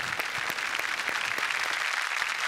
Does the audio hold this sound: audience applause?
yes